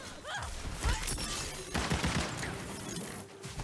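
A magic barrage attack in Tiny Tina's Wonderlands: a dense, loud volley of rapid crackling blasts and impacts, layered and continuous, with busy game effects throughout.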